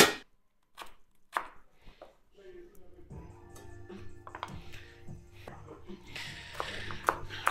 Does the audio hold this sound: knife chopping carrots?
yes